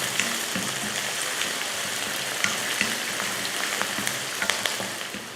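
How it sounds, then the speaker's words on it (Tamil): Chopped onions and curry leaves sizzle steadily in hot oil while being sautéed until golden for an egg dish. The frying hiss is continuous and close, with small crackles and no talking. "வெங்காயத்தை நல்லா பொன்னிறமாக வதக்கிக்கலாம்."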